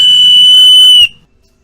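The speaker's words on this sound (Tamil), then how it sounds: "மரக்கட்டையிலே செஞ்ச விசில்கள்." Wooden whistle, carved as a traditional toy, blown in one loud, steady, shrill tone held for about a second and then cut off abruptly, with a faint breathy rasp underneath.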